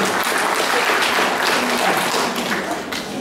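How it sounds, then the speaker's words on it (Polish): An audience applauds at a community culture centre gala before a child recites a poem, the clapping dense and continuous throughout with faint voices underneath. "Brawa dla Joanny Gołuch."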